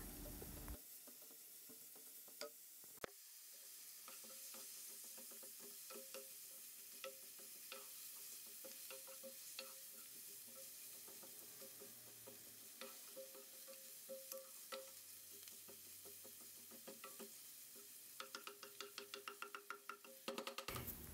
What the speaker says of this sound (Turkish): 1 yemek kaşığı kadar kıymayı da alarak kavurma işlemine devam ediyorum